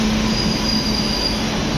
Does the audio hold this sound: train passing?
yes